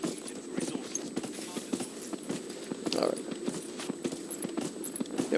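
Horse hooves clip-clop in a steady walking rhythm in the video game Dragon Age Inquisition, moderately loud with game ambience and a person talking over it.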